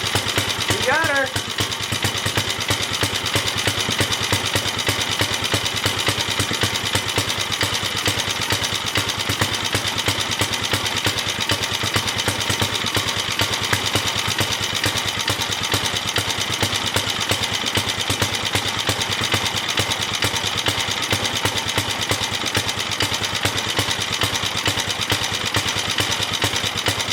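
An old hand tiller engine running steadily after starting, a continuous rough mechanical drone and vibration throughout, loud and close, with speech-like noise blended in.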